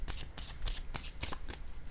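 A tarot deck shuffled by hand at close range, with steady, repeated papery riffles and swishes in quick bursts, filling the moment without any speech.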